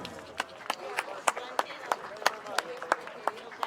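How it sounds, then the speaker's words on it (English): An audience claps in a round of applause at a tribal honoring event, steady sharp claps of a small crowd with a voice over them. "Round of applause for them"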